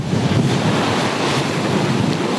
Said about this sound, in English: This afternoon's high tide saw waves slam into the dunes at Main Beach, carving away sand